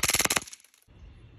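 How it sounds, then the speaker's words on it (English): A Glock 18C pistol fires full auto in a rapid burst of about eight close, loud shots lasting under half a second, followed by a brief echo and quiet. "One Glock 18C, full auto."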